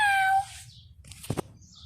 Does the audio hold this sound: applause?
no